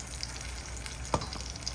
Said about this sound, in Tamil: இப்போ நான் இன்னும் கொஞ்சம் சிக்கன் பொரிக்க போகிறேன்.